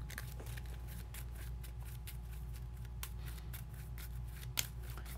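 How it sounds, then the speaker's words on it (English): Cards being shuffled for the Arkham Horror card game, a quiet, steady riffling and rustling at close range over a low background hum, with no talk. "let me shuffle this up and see what I get first"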